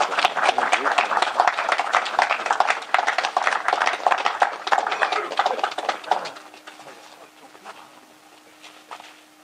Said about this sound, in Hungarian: Most következik a taps.